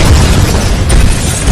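A bomb explosion in an action movie, heard as a loud, sustained, deep rumbling roar that fills the whole short moment.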